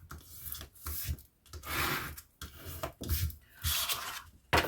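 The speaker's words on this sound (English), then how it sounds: "just burnish that down so that sticks really well" Glued paper being burnished down by hand rubbing, a series of close, soft scraping and rubbing strokes in uneven bursts with short pauses, no talk.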